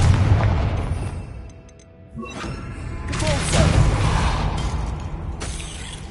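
Blasting spell explosion from a wizarding video game set at Hogwarts, a loud booming burst around two seconds that gives way to a sustained rumbling, crackling blast lasting several seconds.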